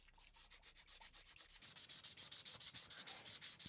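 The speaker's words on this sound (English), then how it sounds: "I'm going to start sanding the copper on both sides" Copper water pipe being sanded by hand during a main shut-off valve replacement: rapid, even back-and-forth scraping strokes, close and alone, getting quicker and louder partway through.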